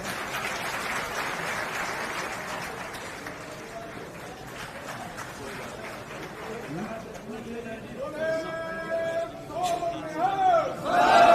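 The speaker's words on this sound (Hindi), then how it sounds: "तालियों के साथ स्वागत।" A crowd at a BSP political rally in Karnal, Haryana claps to welcome a speaker. The applause is loudest at the start, then thins and fades while voices and tonal sounds rise near the end.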